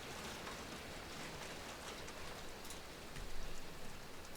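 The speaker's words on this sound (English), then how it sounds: "Oh, it is really raining." Heavy rain falling outside, a dense, steady hiss of drops drumming on a surface throughout, swelling slightly near the end, with no voices.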